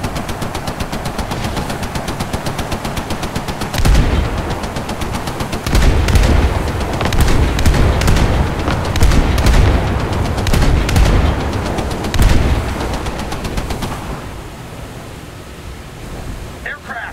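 Naval guns blaze in a War Thunder sea battle, with broadband bursts of cannon and machine-gun fire arriving in loud clustered volleys from about four to fourteen seconds before easing off. A voice announces orders through the firing.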